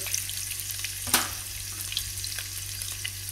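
Green chilies and chili powder frying in hot oil for a curry of Bombay potatoes, a steady close sizzle with one sharp stirring burst partway through and a low hum beneath, no talking.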